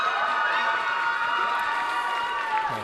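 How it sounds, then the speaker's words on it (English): A large indoor crowd at a synchronised skating competition in London cheers and screams loudly and continuously as the home team, Lee Valley London Skating Club, enters the ice, with high shrill voices dominating. "the cheer goes up as the home side, one could say"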